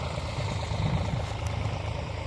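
Tractor engine idling nearby at a borewell drilling site, a steady low rumbling chug that continues without change throughout.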